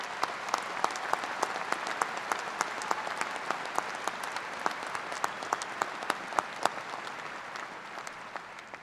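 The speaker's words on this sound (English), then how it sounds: "Let's have a round of applause for these first-generation college graduates and their families" A large commencement crowd applauds first-generation college graduates and their families, sustained dense clapping with some sharp individual claps standing out, steady and fairly distant throughout.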